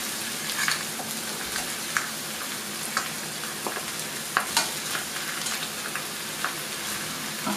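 Ribs with a mustard sauce base fry in a pan with a steady, moderate sizzle, broken by light stirring scrapes and small pops at irregular intervals.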